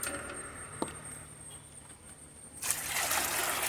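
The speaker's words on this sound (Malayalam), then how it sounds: "ഇത് നിറച്ച് നമുക്ക് വെള്ളമാക്കാം." Water pours into a container to dilute an onion solution meant for watering vegetable plants; a soft trickle gives way to a louder, steady rush of pouring near the end.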